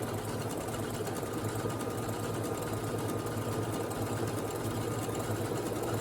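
A Brother SE1900 sewing machine stitches steadily with a twin needle, its needle mechanism whirring in a fast, even rhythm close by for the whole stretch, with no talking.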